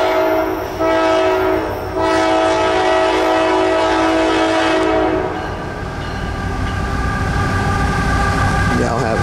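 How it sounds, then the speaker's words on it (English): A loud train horn blares in sustained chords while a CSX coal train of hopper cars, pulled and pushed by ET44AH locomotives, rumbles past close by up a grade, the horn fading into heavy rolling wheel noise. "we got a train coming up the grade"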